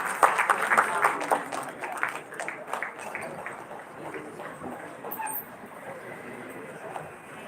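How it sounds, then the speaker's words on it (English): Audience applause for the chairpersons closing keynote lectures at a dental conference, a burst of clapping strongest in the first second or two, then thinning into scattered claps and murmur. "Can we have a huge round of applause, please?"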